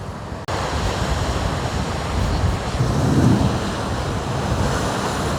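Ocean waves surge through a blowhole on the coast at Quobba, Western Australia, making a continuous loud rushing roar with a heavier swell of spray and water midway, buffeted by wind noise on the microphone.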